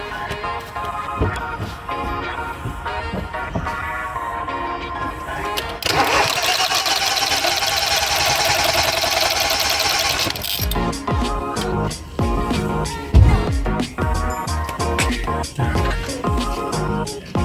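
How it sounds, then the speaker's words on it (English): A Ford Focus 1.0 EcoBoost with a no-start fault cranks for about four seconds without firing, a steady loud starter churn set between quieter workshop clatter and knocks. "I'm going to swing the engine"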